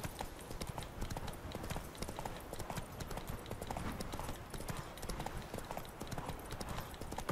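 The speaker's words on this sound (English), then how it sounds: "I'm riding my horse into town." Horse hooves in The Witcher 3: Wild Hunt clip-clop in a steady, quick rhythm on a hard surface, continuous and moderately close, with faint game ambience behind.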